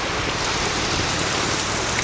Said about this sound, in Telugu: ఒక ఐదు నిమిషాలకి ఇంత పెద్ద వర్షం అయితే వచ్చింది